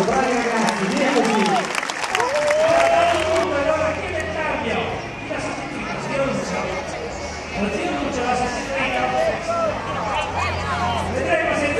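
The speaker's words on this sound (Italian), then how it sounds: "Qualche applauso, bravi ragazzi, via così!" Applause from a crowd at an outdoor solidarity event for volunteers in San Donato Milanese, steady clapping mixed with voices, shouts and a whistle-like tone running throughout.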